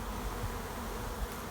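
Honey bees roar in a loud, close, continuous buzz as frames of brood are shaken off over the hive.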